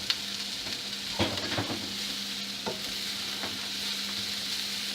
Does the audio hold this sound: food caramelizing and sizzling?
yes